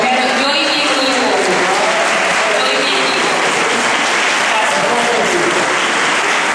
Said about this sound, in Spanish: se merece un aplauso para ella